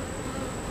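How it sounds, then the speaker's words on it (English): Honeybees hum in a steady, dense drone at a sugar-water-fed beehive, many bees buzzing close together with no break and no voices. "there's quite a few more bees than last time"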